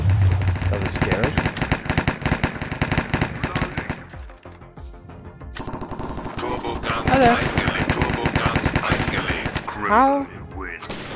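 Rapid automatic gunfire rattles in bursts during a Minecraft Hypixel Cops and Crims round, with a short lull midway before more shots and game effects resume. A voice briefly speaks.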